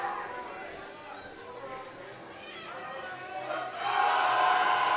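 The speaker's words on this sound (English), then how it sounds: "The crowd is getting really, really hype here." A crowd at a high school powerlifting nationals meet shouts and cheers from a distance, building from a murmur to louder encouragement toward the end.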